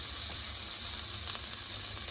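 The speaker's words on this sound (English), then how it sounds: "Just fry everything together." Spices including turmeric, red chili, coriander powder and degi mirch fry in melted butter in a pan, producing a steady, close sizzle with a constant bright hiss and faint crackles.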